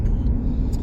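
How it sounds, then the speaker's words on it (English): Brief low rumble of passing road traffic, a continuous engine drone close by with no voices over it. "So much traffic."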